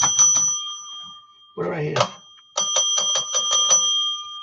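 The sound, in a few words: hand bell being rung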